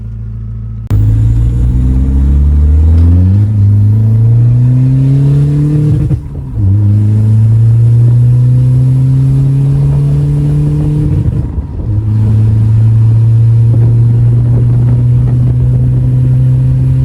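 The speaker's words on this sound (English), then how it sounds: "So yeah, let's take it for a road test." A BMW E46 car engine revs and pulls through gears on a road drive, its loud steady tone climbing in pitch and dropping at two shifts, close and continuous with no talking.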